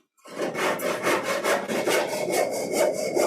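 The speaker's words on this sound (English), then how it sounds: "This is called a crosscut saw." A crosscut hand saw cuts through wood in steady back-and-forth strokes, each pass a rasping burst, close and alone.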